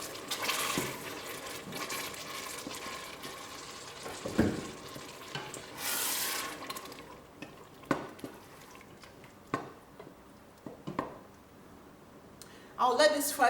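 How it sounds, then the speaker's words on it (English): Onions and tomatoes frying in a pan give a steady low sizzle with occasional stirring scrapes and clinks, closer clatter near the end. "I'll let this fry for a couple of minutes."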